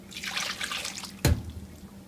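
Mixed sauce for cashew chicken is poured into a pan, giving a soft liquid rush followed by a single sharp sizzle or splat partway through, close by and alone without speech.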